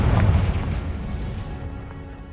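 A Confringo fire spell from Hogwarts Legacy bursts in one loud, deep boom that rolls away and fades over two seconds, close and alone with no voices.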